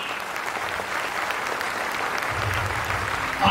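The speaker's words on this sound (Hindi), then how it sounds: "तालिया।" Audience at a school fest in Purnia clapping continuously in a dense, moderately loud patter for a few seconds.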